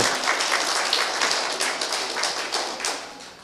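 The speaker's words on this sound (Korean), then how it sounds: "박수 한번 보내주세요." A seminar audience of married couples gives a dense round of applause, close and continuous, slowly tapering toward the end.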